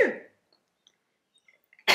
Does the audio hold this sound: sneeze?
yes